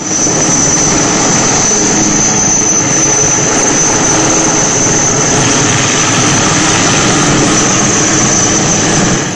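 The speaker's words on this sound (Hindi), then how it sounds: "ऊपर चक्कर काटता हेलीकॉप्टर। काफी देर तक मध्य प्रदेश के इस हिस्से में वायुसेना का हेलीकॉप्टर मंडराता रहा।" An Indian Air Force helicopter circles low over a flooded river in Madhya Pradesh, its engine and rotor making a loud, steady, continuous roar with a high whine on top that never lets up.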